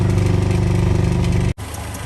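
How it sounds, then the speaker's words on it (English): A 1971 Land Rover Lightweight idles warm with the bonnet up, a steady loud close rumble with an even pulsing beat that drops out briefly once before resuming. "here we are on the bonnet, with the engine idling nice and warm"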